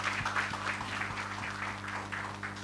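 An audience at a film trailer launch claps in a moderate, even wash of applause, with a steady low hum running underneath throughout.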